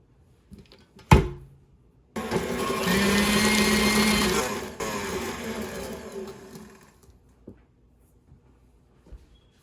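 An electric mixer beats cookie dough for thin mint cookies, its motor whirring loudly and steadily for a few seconds before easing off into softer mixing, with scattered knocks of the bowl around it.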